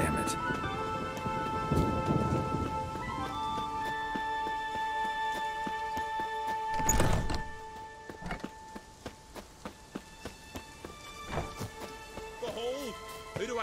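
Rain and thunder sound in a storm in the video game The Witcher 3, with a rushing downpour and a rumbling roll, partly under game music and dripping tones, fading to scattered drops.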